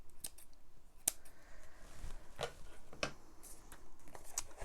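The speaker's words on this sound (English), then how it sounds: "I'm just going to cut that off." Quiet, close snips of small scissors trimming excess ribbon or paper from a handmade card, a few crisp separate cuts spread over a few seconds with light handling noise between.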